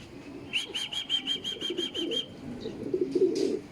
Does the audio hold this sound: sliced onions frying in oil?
no